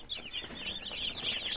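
Cobb 500 broiler chicks hatched from Czech eggs peep in a brooder under infrared lamps, a dense, continuous chorus of high, shrill cheeping from many birds close by.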